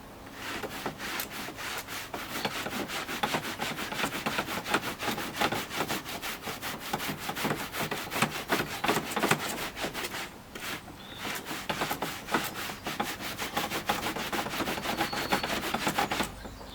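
A brush scrubbing a car floor mat coated with ammonia and black soap, in quick, rhythmic rasping strokes that carry on steadily, with a brief pause partway through.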